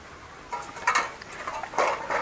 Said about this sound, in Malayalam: ബ്ലാക്കിക്ക് നമ്മൾ ഒരു മുട്ട പൊട്ടിച്ച് കൊടുക്കാണ്.